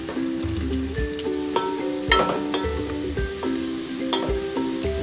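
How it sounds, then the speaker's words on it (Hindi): Onions frying on high flame until golden brown, a steady close sizzle running throughout with a few brief clinks and stirring scrapes. "इस प्याज को हमें गोल्डन ब्राउन करना है गोल्डन ब्राउन फ्राई कर लें हाई फ्लेम पर"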